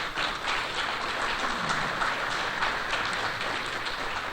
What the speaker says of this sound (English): So can we give them a big round of applause and thank them?